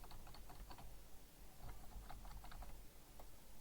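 Computer keyboard keys, the WASD keys, tapped in quick irregular clusters, close and crisp, with faint background hiss and no talking.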